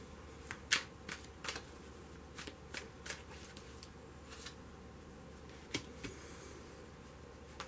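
Tarot cards being shuffled in a series of crisp riffling bursts, irregularly spaced, close and fairly quiet, with no talking.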